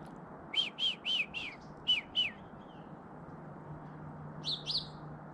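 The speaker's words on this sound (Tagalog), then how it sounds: "So it's another day na may ibon humuhuni," Morning birdsong: a run of five or six clear whistled chirps in quick succession, a brief pause, then two more, with a faint pair of higher tweets at the end over a steady low background hum.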